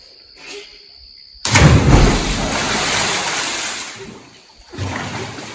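Someone jumps into a pool at Karijini National Park and a big splash breaks out suddenly. Spray and churning water keep rushing for a couple of seconds and then fade, followed by a smaller slosh, with insects faint in the background.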